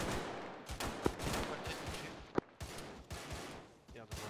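A firefight in the Arma 3 video game, with rattling bursts and a few sharp louder shots mixed with overlapping voices talking throughout.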